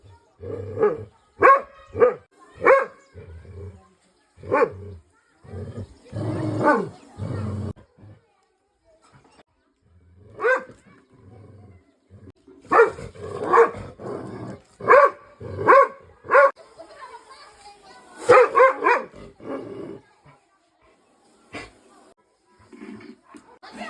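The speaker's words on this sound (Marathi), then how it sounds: "कुत्र्याचा आवाज जास्त बोलताना येतो" A dog barks repeatedly in sharp bursts, some close together, while a venomous cobra is being captured, mixed with people talking and general commotion throughout.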